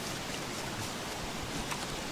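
Steady rain in the game Don't Starve Together: an even, hissing patter of drops, continuous and fairly faint, with no voices.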